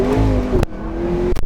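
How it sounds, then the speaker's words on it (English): A McLaren 650S is floored at full throttle, a loud rising engine roar under hard acceleration, broken by two quick gear shifts in a short burst with no talking. "All right, I'm gonna floor it here."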